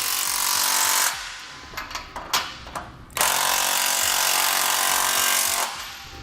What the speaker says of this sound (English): So now we can go ahead and tighten down on U-bolts all the way.